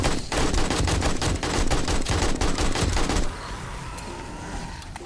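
Rapid automatic fire from an AK in 7 Days to Die (Ravenhearst mod), a loud, dense burst of shots lasting about three seconds before cutting off into quieter game ambience.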